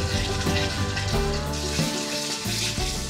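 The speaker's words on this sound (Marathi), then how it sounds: "आता तेलामध्ये हा मसाला छानपैकी एक 4 ते 5 मिनिटं परतून घ्यायचा." Ground spice paste sizzling in three large spoonfuls of hot oil while cooking an eggless anda curry, a loud, steady frying hiss with crackle that runs close throughout, with no talking.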